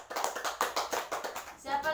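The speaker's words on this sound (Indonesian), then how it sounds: "Tepuk tangan buat kelompok 2." A classroom gives a short burst of clapping for a student group. The rapid, close hand claps last under two seconds and blend with a voice at the end.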